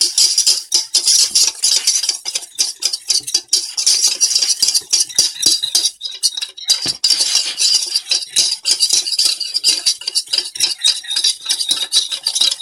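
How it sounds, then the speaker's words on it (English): A whisk beating Alfredo sauce ingredients in a bowl, with fast continuous rattling and clinking of metal against the sides, close and busy with brief pauses, no talking. "I'm going to start whisking this all in together."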